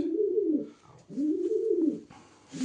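A female pigeon coos three times in slow, throaty rolls, close by and clear, with nothing else in the background.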